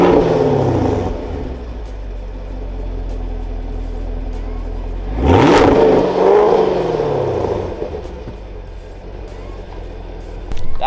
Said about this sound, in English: record the exhaust note from a third person perspective